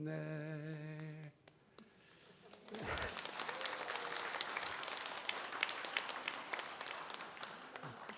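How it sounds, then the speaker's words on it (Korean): A church congregation at a Sunday worship service applauds after a sung hymn ends; the final sustained note of a voice fades out, then after a brief hush a warm, dense round of clapping rises and continues steadily, a little distant in the hall. "박수 받자고 노래 부른 건 아닌데 박수를 쳐주시니 감사합니다"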